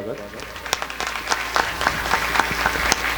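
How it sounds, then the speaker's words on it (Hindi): A crowd applauds with scattered, uneven claps over a continuous background murmur of voices at a Shrimad Bhagavat Katha religious recitation event. "जोरदार तालियों स्वागत"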